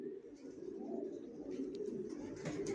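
Racing pigeons of the Johnson line coo steadily inside a loft, several birds overlapping in a low continuous murmur with a few sharper notes rising near the end.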